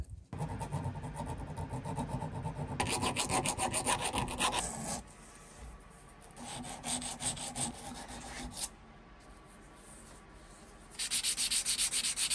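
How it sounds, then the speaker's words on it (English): A metal flycutter part being sanded by hand in repeated bursts of rough rasping, close and steady, with short pauses between strokes. "I think I better stop sanding that."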